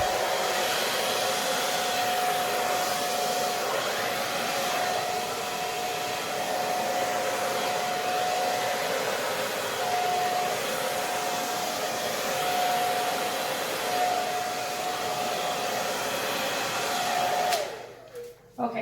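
A hair dryer runs steadily on its low heat first setting over an acrylic pour, a continuous close blowing whoosh with a faint steady whine, cutting off with handling noise near the end.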